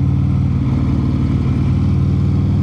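A Harley-Davidson motorcycle fitted with a 135 ci crate engine is ridden on the road, its loud, deep, steady engine drone and low rumbling pulse continuous and close throughout.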